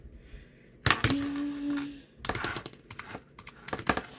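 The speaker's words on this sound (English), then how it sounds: "Let me get my keyboard." Typing on a computer keyboard indoors, with a few quick clusters of key clicks and thunks separated by short pauses, fairly faint with a brief tonal hum in between.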